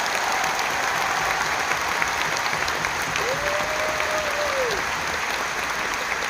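A large audience at a concert in Malaysia applauds in dense, steady clapping that holds at an even loudness throughout, with a brief sustained tone rising midway.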